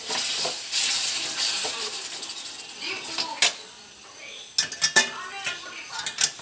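A spoon stirs homemade fish pickle in a pot over heat, scraping and clinking against the metal in a steady rhythm, then breaking into sharper, irregular clatters near the end.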